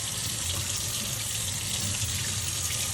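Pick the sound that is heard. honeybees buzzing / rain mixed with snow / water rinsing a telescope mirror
water rinsing a telescope mirror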